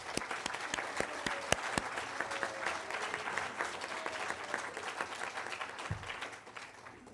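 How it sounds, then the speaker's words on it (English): Audience at a Brick Church evening event applauding steadily for about seven seconds, a dense patter of many hands with a few sharp close claps early on, fading slightly at the end. "join me in thanking him and honoring with applause"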